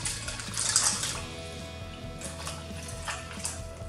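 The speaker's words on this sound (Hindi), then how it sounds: "अब हम उसमें एक ग्लास पानी डालेंगे।" Water poured from a glass onto wheat-flour pasta in a wok, a brief splashing pour with light clinks of the pan and utensils, close and moderately loud, with no talking.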